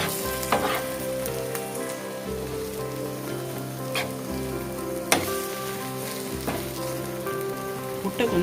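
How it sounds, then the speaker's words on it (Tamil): Egg and onion fry steadily in a pan for Madurai kothu idli, a continuous close sizzle broken by sharp clacks of a utensil stirring and scraping at irregular intervals. "முட்டையை கொஞ்சம் கலந்து விட்டுக்கோங்க."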